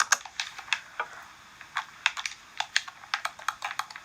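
Quick bursts of keystrokes on a computer keyboard, clacking close and fairly loud in uneven runs with short pauses between them, and no voice over the tapping.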